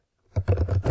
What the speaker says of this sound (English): Now I will open my terminal, type node